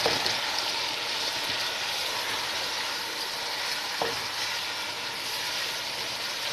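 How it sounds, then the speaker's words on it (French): Onions and tomato frying in a pot make a dense, continuous sizzle, broken by a couple of brief stirring knocks. "Donc je laisse bien frire mes oignons"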